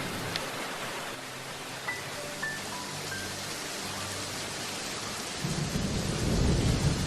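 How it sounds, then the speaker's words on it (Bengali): Heavy rain pours down steadily as a dense hiss, and a deep roll of thunder rumbles in near the end. "তারপর নামিল বৃষ্টি সে কি মুসলধারায় বর্ষণ"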